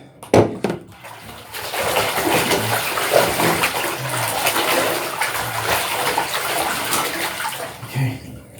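Water sloshes and splashes steadily in a filling bathtub during a bath, a continuous close wash of running and splattering water with faint voices and small bumps underneath.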